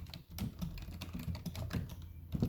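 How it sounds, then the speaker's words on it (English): A computer keyboard is typed on in a quick, steady run of close, crisp key clicks with no talking. "So I'm typing it in right now."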